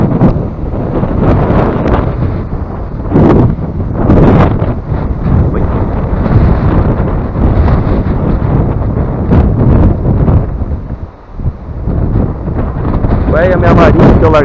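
Strong storm wind buffets the microphone at an outdoor fishing spot for traíra, a loud, continuous roar with gusty surges and a brief lull near the end.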